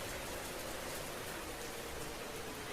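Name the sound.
rain falling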